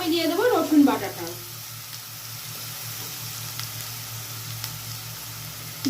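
Onion and garlic paste fries in a pan, a soft continuous sizzle beneath a low hum, with a voice briefly heard at the start.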